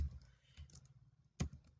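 Keys tapped on a computer keyboard to steer a game in a PS2 emulator, a few soft scattered presses and one firmer click, close and quiet with no talk.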